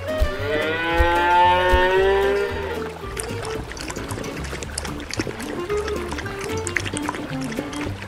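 A cartoon country cow lets out a long drawn-out moo near the start, which then gives way to splashy watery sounds and a busy background.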